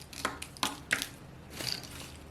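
Crisp fried cashew nuts snap and crunch as they are broken by hand, three or four sharp, close, faint cracks followed by a softer rustle.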